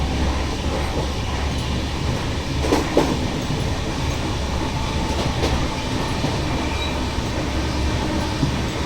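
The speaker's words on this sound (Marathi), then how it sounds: "जवळपास 100 किलोमीटर पर आवरच्या स्पीडने ट्रेन जात आहे." The Mumbai LTT–Haridwar AC Superfast Express running at speed near Nashik Road, a loud, steady rumble of rolling coaches with rhythmic clickety-clack from the wheels and a few sharper rail knocks, no voices.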